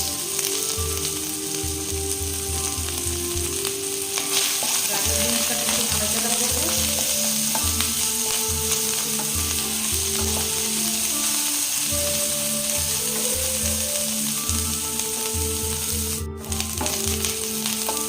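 Carrots and beans fry in a pan for homemade mixed chow mein, giving a steady close sizzle with repeated stirring and scraping strokes throughout, no voices.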